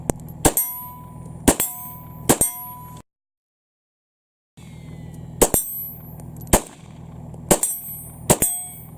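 Glock pistol fired on a shooting range, sharp loud reports coming in quick pairs and triples, each ringing out with a metallic clang, broken by a short silent pause before the shots resume.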